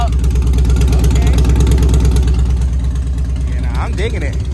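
A Harley-Davidson CVO motorcycle idles loud and close with a lumpy, loping V-twin beat that stays even throughout, while people talk briefly over it near the end.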